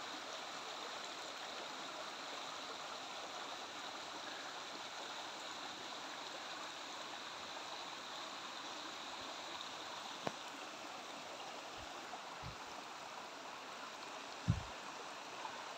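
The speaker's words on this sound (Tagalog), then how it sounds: "Ang sarap pakinggan ang pag-agos ng tubig dyan sa batis na yan." Water in a small stream under trees flows steadily in a constant rushing hiss, with a few faint knocks near the end and no talking.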